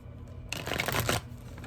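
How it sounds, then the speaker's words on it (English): A deck of tarot cards being shuffled by hand: a dense, crisp riffling burst of about two-thirds of a second, close and fairly loud, with quiet room tone before and after. "I love shuffling these cards."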